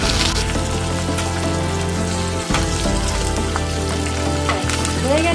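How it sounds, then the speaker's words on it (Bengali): White and black mustard seeds, curry leaves and green chillies crackling in hot white oil for a dhokla tempering, a steady dense sizzle with popping spits, close and continuous. "ফোড়নে দেব 1 চামচ সাদা কালো সর্ষে। দিয়ে দেবো কারি পাতা, সামান্য দিয়ে দেবো লবণ, আর দিয়ে দেবো 2 কাঁচা লঙ্কা।"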